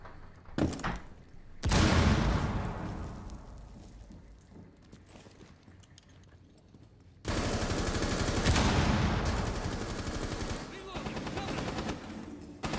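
Video game gunfire crackles in loud bursts, a short volley early then long sustained rapid automatic fire, with quieter stretches between.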